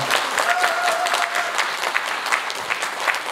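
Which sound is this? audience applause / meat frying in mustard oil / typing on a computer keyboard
audience applause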